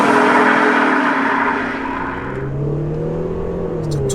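Audi with a 3-litre Bi TDI twin-turbo diesel tuned to 550 bhp pulls hard, a loud, close engine roar holding steady then shifting lower in pitch as the gear changes, under no talk.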